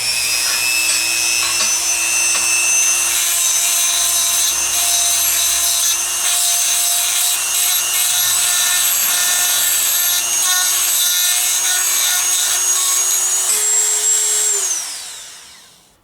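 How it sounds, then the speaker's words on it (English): A rotary tool cleans rust out of the head of a Craftsman ratchet with a steady, high-pitched whine and rough grinding, then winds down and falls silent at the end. "So this thing has quite a bit of rust in here, so I'm going to go ahead and clean that out really quick."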